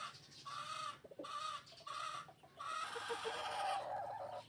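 Young cockerels let loose in a farmyard cluck repeatedly and crow in short bursts with brief pauses between, fairly close and clear, with no talking.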